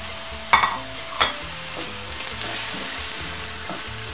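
Small pieces of chopped liver sizzle steadily in a hot pan, with a few sharp scraping knocks from a utensil stirring them.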